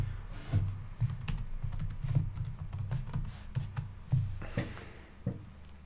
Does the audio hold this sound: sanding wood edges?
no